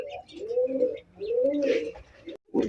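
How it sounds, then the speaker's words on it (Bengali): An Australian dove in a breeder's bird collection gives two drawn-out, rising and falling coos close by, with a brief pause between them and little else around. "Australian ঘুঘুর collection"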